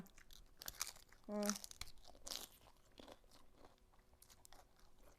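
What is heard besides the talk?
chewing crunchy vegetables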